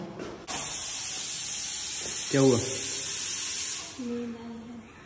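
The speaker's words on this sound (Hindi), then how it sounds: "ये कुकर सीटियां क्यों मार रहा है?" A pressure cooker whistling, a loud steady hissing blast of steam that runs for several seconds, with a brief spoken question over it.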